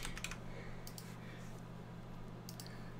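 Faint keystrokes on a computer keyboard come in a few scattered quick clusters over a low steady hum, quiet and somewhat distant.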